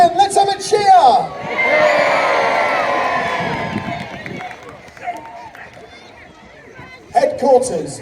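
A crowd cheers and whoops loudly at a naval gun battle show in Peasholm Park, Scarborough, a burst of several seconds that fades, framed by a commentator's voice before and after.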